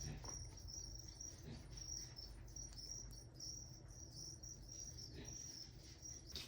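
Feeder crickets in a container chirp in quick, repeated pulses close by, a constant insect trilling over a quiet room with no speech.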